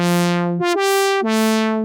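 A bright, buzzy brass-like saw wave synth lead plays three sustained notes, each opening with a sharp resonant filtered swell, loud and close.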